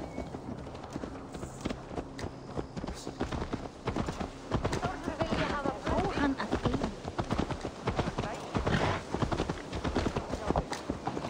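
Horse hooves clip-clop steadily in the Assassin's Creed Valhalla video game, a brisk, close rhythmic beat of a ridden horse that runs for several seconds, with game voices speaking over it.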